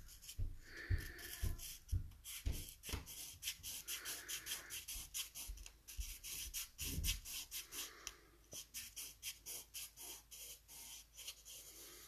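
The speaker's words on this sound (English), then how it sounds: "move on to another piece of sandpaper. This one is 600." Ammolite from Alberta being sanded by hand with 600-grit sandpaper; close, rhythmic scraping strokes repeat steadily with no voices.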